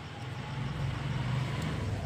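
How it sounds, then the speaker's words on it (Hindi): Outside a room, a road vehicle rolls past with a low, steady engine rumble that swells slightly and then holds, heard faintly from indoors with no speech. "बाहर गाड़ी जा रही, रुक जाते हैं, गई"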